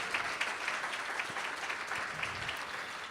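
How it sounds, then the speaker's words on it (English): Lunch audience at a symposium at the Lord Elgin Hotel applauding, a steady burst of many hands clapping throughout, moderately loud and even, with no talk over it. "How about a big round of applause to the Lord Elgin Hotel?"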